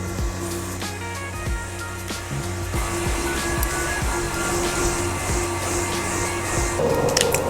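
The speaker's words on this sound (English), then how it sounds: "Now grab your fan," A handheld fan whirs steadily and close throughout while setting spray dries on makeup, a continuous broadband blowing hum with a constant motor tone, rising slightly near the end.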